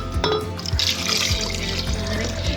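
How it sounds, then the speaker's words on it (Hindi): Warm rice-soaking water pours steadily into a grinder for making badami kheer, a continuous splashing trickle with a few soft knocks of the container, close and fairly loud. "ये वही पानी जिसमें मैंने चावलों को भिगो के रखा था गर्म पानी में, उसी पानी से ही हम इन चावलों को ग्राइंड करेंगे।"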